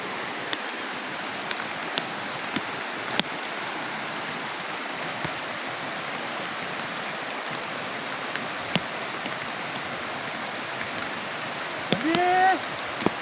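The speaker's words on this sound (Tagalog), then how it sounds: "Malakas ang ulan." Heavy rain pours steadily, a dense hiss of drops hitting surfaces with no break, and a short louder patch near the end.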